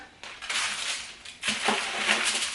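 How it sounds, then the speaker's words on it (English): Metal sheet pan in a home kitchen being moved and set down, with two clattering, scraping bursts of metal contact, fairly close and loud, and no talking. "I'm going to bring this sheet pan over here"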